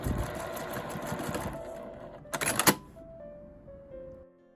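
A sewing machine stitches fabric for a pouch with a steady, close whirring run. A brief louder rattling burst follows, then the motor winds down to a faint hum and stops.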